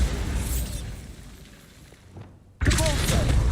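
A Bombarda blasting spell explodes in Hogwarts Legacy, a sudden loud, broad blast that cuts in after a stretch of quieter game ambience and stays roaring to the end.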